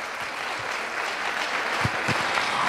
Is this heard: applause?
yes